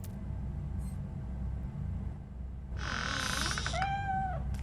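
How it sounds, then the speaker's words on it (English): A cat in the video game Robocop: Rogue City lets out a clear, close meow followed by a second rising-and-falling cry, heard over a low steady background hum. "The cat is fine."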